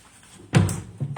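Something is shut hard in a kitchen while pie is being made, most likely an oven door closing on grills: one sharp, fairly loud slam, then a second softer bang about half a second later, with no talk over it.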